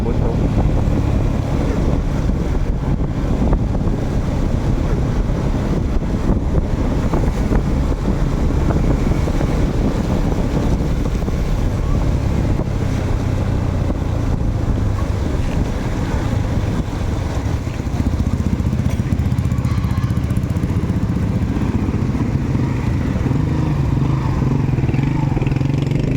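A motorcycle pushes through a flooded road during a heavy downpour, its engine a constant low drone mixed with rushing water, splashing and wind buffeting the microphone throughout.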